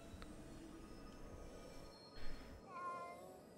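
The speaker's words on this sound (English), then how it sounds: "Wait, this cat has been here for the whole time?" A cat meows in the video game Ghostwire Tokyo, a faint, brief call late in the clip over a low, steady ambient game background.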